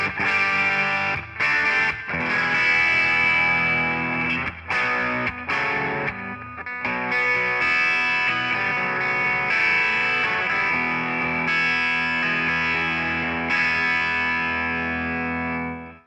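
Electric guitar played through a Greer Amps Southland overdrive pedal, heard alone with no talking: a dense, driven, distorted tone of sustained chords and riffs with a few brief stops, staying loud and steady until fading at the end.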